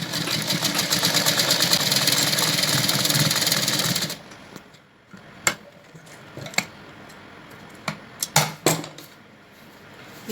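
A sewing machine stitches the gathered seam of a baby bloomer, running in a fast, steady mechanical whir for about four seconds, then stopping, followed by scattered small clicks and handling sounds.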